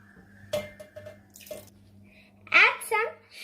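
Water is poured into a lassi mixture of curd, cardamom and coconut, a short splashing gush that follows a few small clinks and taps, with a brief voice nearby.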